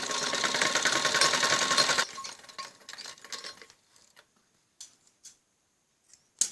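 A sewing machine stitches a kameez neck strip in a continuous whirring run for about two seconds, then stops, leaving scattered faint clicks and handling noises.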